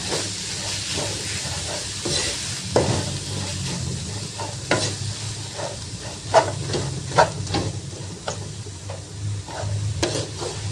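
Carrot and tofu filling for stuffed tofu is stir-fried in a pan with a continuous hiss and sizzle. Repeated spatula scrapes and taps come at an uneven pace, close by, with no voices.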